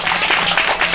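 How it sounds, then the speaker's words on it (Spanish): Audience applause after a call to clap for two participants at a marketplace-style swap event, a steady dense patter of many hands filling the whole second without a break. "un aplauso por favor para ellos dos, que se lo merecen"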